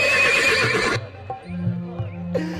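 A horse neighs in a loud, shrill whinny at close range, then a short pause, and a fainter snort or whinny follows near the end over a low, sustained musical drone.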